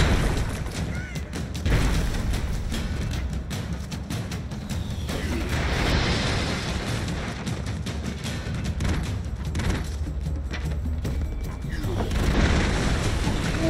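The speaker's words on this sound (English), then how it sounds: "It's like airstrikes." Repeated airstrike blasts from the side-scrolling action game Broforce rumble as dense booms and thuds through most of the stretch, steady and loud, with a voice talking over parts of it.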